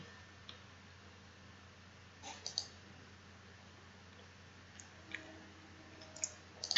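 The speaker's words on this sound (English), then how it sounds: "click on run analysis to get the output file" A handful of soft, close computer mouse clicks, mostly single with one quick pair, set against a quiet steady room hum while running an analysis in structural design software.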